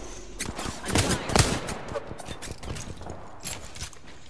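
Rapid bursts of gunfire crackle through a shooter video game battle, the heaviest volleys packed into the first second and a half before thinning to scattered, fainter shots with light background rumble.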